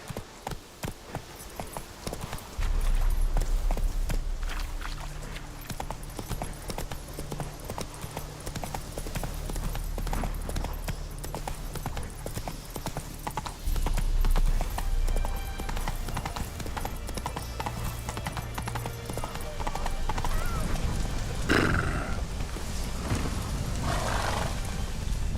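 Roach, a horse in the video game The Witcher 3: Wild Hunt, gallops with a steady rhythmic drum of hooves over a low rumbling background. A neigh and some louder bursts come near the end.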